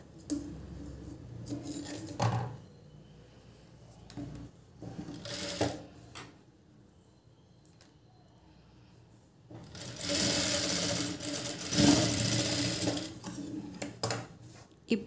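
Sewing machine stitching a garment sleeve with an attachment, heard as short bursts of whirring at about 2 and 5 seconds and a longer, louder run between 10 and 14 seconds, with quiet pauses between them.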